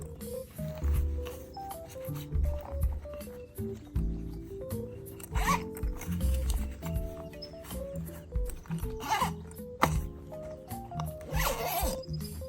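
Several zippers zip open on a red motorcycle tank bag with a high-visibility interior and multiple storage compartments, quick scratchy pulls repeating close up over a steady musical background.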